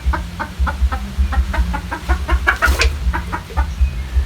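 Junglefowl, purebred and fed on pellet feed, cluck in a steady rhythmic series of short calls while eating, close and fairly loud, with a brief higher squawk midway and a low background hum.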